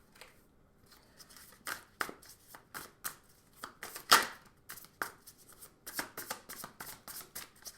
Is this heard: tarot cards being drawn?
yes